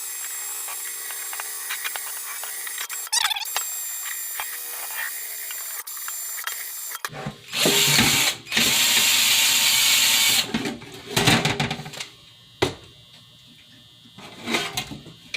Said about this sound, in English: polish it out with the drill.